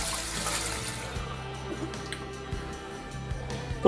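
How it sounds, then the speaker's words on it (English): Wild mushrooms are drained in a kitchen while preparing a French country terrine, with steady close splashing and running liquid, a few small knocks mixed in. "We're going to drain our wild mushrooms."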